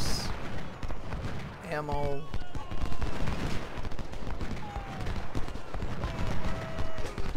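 Musket volleys in Ultimate General: Civil War at the Battle of Cold Harbor: ragged, crackling rifle fire keeps popping near and far across the battlefield, with a brief spoken word and bugle-like tones over it.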